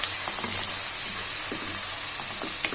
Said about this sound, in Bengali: পেঁয়াজগুলিকে ভেজে লাল করে নেব